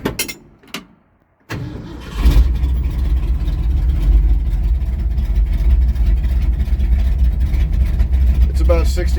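A 1965 Ford F100 with a Predator carburetor cold starts: a short cranking burst, a pause, then the engine catches and settles into a loud, lumpy, rumbling idle up close.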